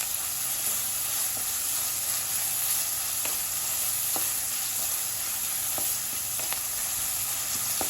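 Ingredients for tomato chutney sauté gently in a pan, giving a steady, hissing sizzle with occasional faint clicks of a stirring utensil.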